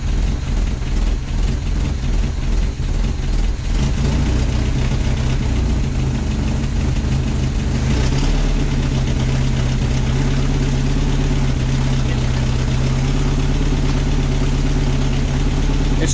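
A 1977 Rover P6 2.2TC engine idles steadily after a cold start with no choke, a loud, even low rumble with a slightly blowy exhaust note running unbroken throughout.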